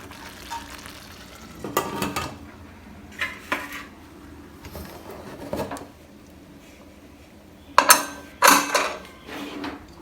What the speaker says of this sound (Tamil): இப்போ மூடி போட்டு வெயிட் போட்டுடலாம்.